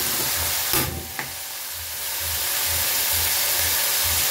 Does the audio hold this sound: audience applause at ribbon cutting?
no